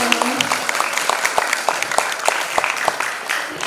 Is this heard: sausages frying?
no